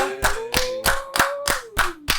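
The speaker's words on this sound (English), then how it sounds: "let's clap it up for the birthday girl" Rhythmic clapping for a birthday celebration, about seven sharp, evenly spaced claps over a couple of seconds, with a steady sustained voice-like tone running underneath.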